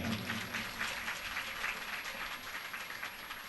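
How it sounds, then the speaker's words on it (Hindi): An audience at a religious discourse event claps continuously, a dense, even wash of applause at moderate volume with no break. "तब तक आपकी तालियां रुकनी नहीं चाहिए।"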